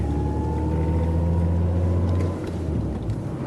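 Steady engine drone and road rumble from inside a moving car, continuous and fairly loud, with a low hum, no talking.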